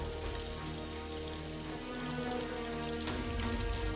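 Tap water runs steadily over a Post-it note held beneath the faucet at a kitchen counter, a continuous close hiss and splatter with no speech.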